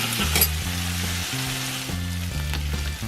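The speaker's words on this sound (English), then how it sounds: "a little salt while I'm cooking the onions" Onions frying with salt in a pan crackle and sizzle steadily and fairly close, with a low, stepped tonal melody running underneath throughout.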